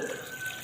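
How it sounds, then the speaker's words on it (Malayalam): Water trickling from a tap into a pot of jackfruit curry, a brief faint splashing pour. "കുറച്ചുകൂടി വെള്ളം ഒഴിച്ചു"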